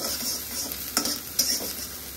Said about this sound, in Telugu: సో ఇప్పుడు ఆనియన్స్, ఇది గోల్డెన్ బ్రౌన్ రానక్కర్లేదు, జస్ట్ సాటే చేస్తే సరిపోతుంది.